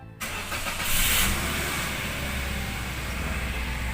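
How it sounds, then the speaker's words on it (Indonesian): A Toyota Rush engine cranks and catches after a brief silence, then settles into a steady, close idle rumble with a bright whir fading in the first second. "Oke, kita nyalakan mesin."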